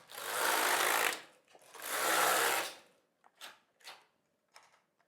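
A knitting machine knits rows of a sock: two long, loud whooshing carriage passes, then a few brief, fainter clicks and rattles.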